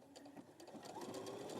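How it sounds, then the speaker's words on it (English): A Brother sewing machine runs in a short, steady burst, its rapid needle stitching clatter faint and even throughout. "Have you ever, Sarah, used the side cutter foot on your brother sewing machine?"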